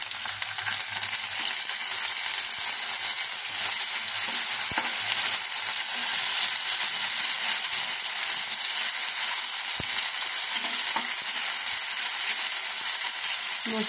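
A spice paste of ground ginger, cumin and green chilli fries in a pan for hilsa do-peyaja, giving a continuous close hiss and crackle. Occasional scrapes and taps of stirring break through the steady sizzle.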